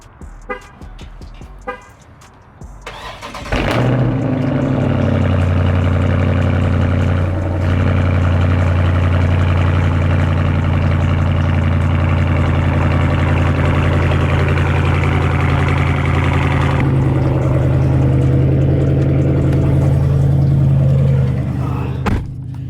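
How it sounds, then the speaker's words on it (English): Dodge 392 Scat Pack widebody engine cold-starting with a sharp crank and loud bark, then settling into a deep, steady rumbling idle that drones on up close for nearly twenty seconds. "Get a little cold start for you guys."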